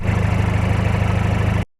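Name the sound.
car straight-through exhaust idling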